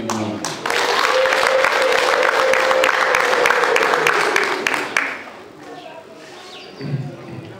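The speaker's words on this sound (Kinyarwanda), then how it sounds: "Ndagira ngo mushimire abasaza n'amashyi menshi n'impundu." At a Rwandan wedding, a crowd breaks into loud, sustained applause with high, wavering ululation (impundu) over it, then fades into a quieter murmur.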